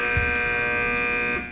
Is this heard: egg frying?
no